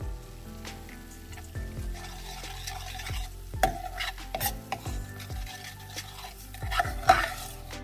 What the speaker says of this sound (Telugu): ఆ పచ్చివాసన పోయేంత వరకు చక్కగా ఫ్రై అవ్వనివ్వాలి